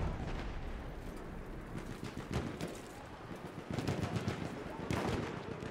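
Machine gun fire in the video game Battlefield 1 comes as distant bursts of rattling shots under a steady wash of battle noise, faint and mixed with other gameplay sounds.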